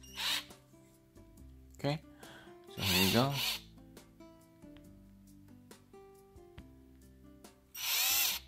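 Hyper Tough 20V Max cordless drill driver with a Phillips bit spinning in short bursts, its clutch clicking, near and fairly loud between quieter handling noises.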